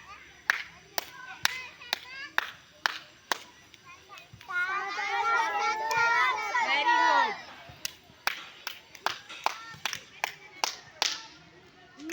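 Young children clap their hands in a classroom counting game, sharp separate claps in uneven runs, with a burst of children's chatter and shouting in the middle.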